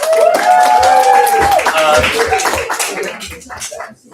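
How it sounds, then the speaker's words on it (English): Meeting attendees give Fran a short round of applause with scattered clapping, while some voices speak over it before it dies away. "round of applause for Fran"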